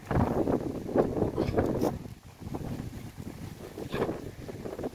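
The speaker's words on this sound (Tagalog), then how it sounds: "Lakas ng hangin, diba?" Strong wind gusting outdoors, buffeting the microphone in loud rough bursts that briefly drop and then surge again.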